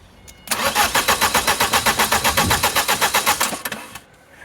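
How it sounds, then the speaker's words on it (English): A DE10 locomotive's 11J86 diesel engine is cranked over by a booster, giving about three seconds of loud, rapid, even rhythmic chugging that starts abruptly and stops, with no speech. "Turning your engine 11J86 engine turn."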